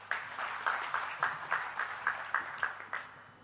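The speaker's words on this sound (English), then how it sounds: "Let's give a round of applause once again to Suhas for a forward-thinking address." An audience applauds at a curtain-raiser event after a speech, steady clapping with rhythmic pulses that fades toward the end, heard from a moderate distance with no talk over it.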